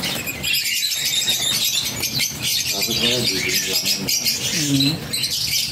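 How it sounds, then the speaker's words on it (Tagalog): Many caged birds in an aviary squawk and squeal together in a dense, continuous chorus of shrill, overlapping calls, loud and close, with someone talking over them. "Tingnan nyo naman yung mga ibon dito ni boss."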